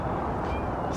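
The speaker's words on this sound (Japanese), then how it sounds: "猫が鳴いております。" A cat meows on a cold outdoor walk near a bridge, a brief, fairly faint call over steady broadband street ambience with no talking.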